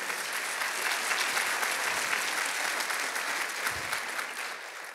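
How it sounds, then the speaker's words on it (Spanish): Loud, sustained applause from a church congregation honoring students of a servant leadership school, dense steady clapping filling the space without pause and easing slightly toward the end. "Denle un fuerte aplauso"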